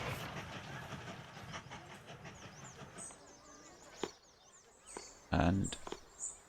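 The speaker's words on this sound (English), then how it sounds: "Is train 1 still making its way up" A Mashinky train rolls along the rails in a steady rumble that fades into a quieter stretch with faint chirps, then a few sharp clacks and one loud metallic clunk near the end.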